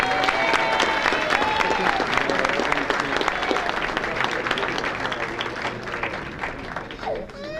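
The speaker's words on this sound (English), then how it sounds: "please, a big round of applause for Frank McFillan" Warm, sustained round of applause from banquet guests at a sports hall of fame dinner, steady crowd clapping with a few voices and whoops mixed in, tapering slightly at the end.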